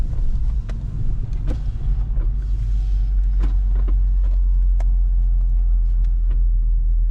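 BMW 340i with a Stage 2+ tune driving in Sport Plus mode, a deep steady engine rumble heard from inside the car, with faint clicks and a thin whine over the constant low drone.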